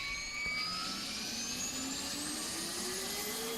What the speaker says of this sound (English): then we just start the engine, close the door